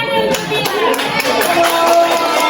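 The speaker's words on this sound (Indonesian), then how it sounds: "Tepuk tangan untuk" Students in a classroom at MAN 1 Padangsidimpuan clap together close by, a loud, dense burst of hand claps mixed with voices throughout.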